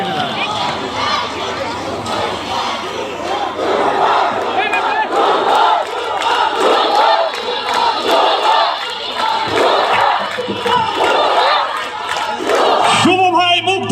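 A large outdoor concert crowd in Faridpur roars and cheers continuously, a dense wall of shouting and clapping that stays loud throughout, with voices rising out of the din.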